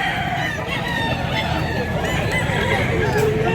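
A rooster in Mantalungon, Cebu, crows loudly and close by, with clucking fowl and a murmur of voices in the background.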